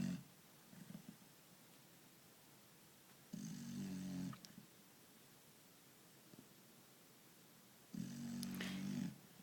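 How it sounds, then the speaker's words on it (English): A puppy snores in two loud, rasping bursts about four seconds apart, each lasting roughly a second, against quiet background hiss. "Hey Redding, you're snoring kind of loud."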